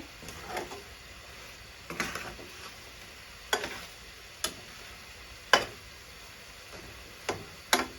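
Intermittent scraping and sizzling clatter from a pan stir-frying fermented chicken drumsticks, with sharp stirring strokes every second or so over a low background hiss.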